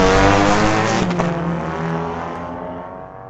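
A Subaru street-legal drag car at a raceway roars loudly through a sustained high-rev pass, its engine note holding strong and then slowly easing as it pulls away.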